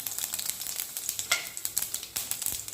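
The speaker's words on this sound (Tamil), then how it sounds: "தேங்காய் எண்ணெய் ஊற்றிக்கலாம். கடுகு போட்டுக்கலாம். கொஞ்சம் ஜீரகம் போட்டுக்கலாம். பூண்டு கொஞ்சம் போட்டுக்கலாம்." Mustard seeds, cumin and garlic sizzle in hot coconut oil, a close, steady crackle with quick popping bursts throughout, heard alone.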